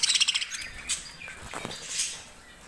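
Pet budgies chirp in a cage, a quick run of soft rhythmic tweets at the start followed by scattered faint chirps and calls, moderately close.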